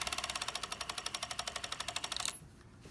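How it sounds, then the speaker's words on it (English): A serger stitches sleeve cuff ribbing over a seam, a fast rhythmic mechanical chatter of rapid, even stitch pulses close by that stops abruptly near the end, with no talk. "I'm going to sew over the seam and match my ribbing or my cuff to my sleeve."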